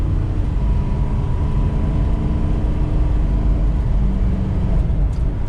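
A 2006 Ford F350 King Ranch pickup pulls away and accelerates, its engine a steady, loud low rumble with road and drivetrain whir that holds level throughout, heard from inside the cab.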